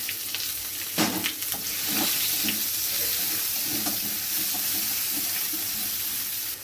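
Chopped onion drops into hot oil with whole cumin seeds and sizzles loudly, with a sharp burst as it hits the pan and then a steady hiss with light stirring sounds.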